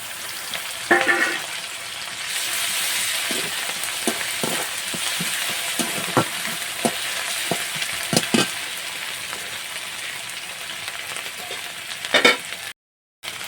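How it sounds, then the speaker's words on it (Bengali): Hot water goes into ginger-garlic paste frying in a pan, and a continuous close sizzle follows, with scattered scrapes and clinks of stirring throughout before a brief dropout near the end. "তো সামান্য একটু গরম জল আমি দিয়ে দিলাম"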